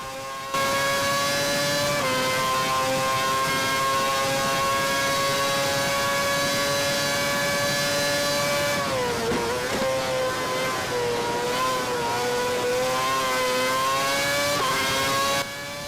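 The high-pitched whine of a Ferrari Formula 1 engine in the video game F1 2011 at Monza holds steady, then dips and climbs again partway through as the revs shift.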